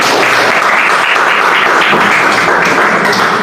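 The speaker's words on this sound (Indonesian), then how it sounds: "Tepuk tangan semuanya." Dense, steady applause from an audience at a teacher performance assessment session, filling the whole stretch with continuous loud clapping and no voices.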